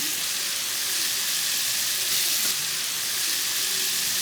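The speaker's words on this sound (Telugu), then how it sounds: "2 టమాటాలని కట్ చేసుకొని వేగించుకోవాలి." Chopped tomatoes and onion fry in hot oil in a pan for a paneer masala curry, giving a steady, dense sizzle with faint stirring scrapes and no talk.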